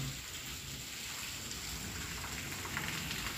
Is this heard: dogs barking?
no